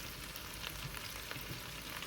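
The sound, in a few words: onions cooking in a pan over medium heat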